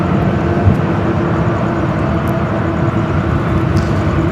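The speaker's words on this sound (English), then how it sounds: "Speedbird making its way up here for north side to take off the A380 Super heading back to London Heathrow" A British Airways Airbus A380 takes off at Los Angeles LAX, producing a loud, steady, broadband jet roar that fills the entire stretch without a break.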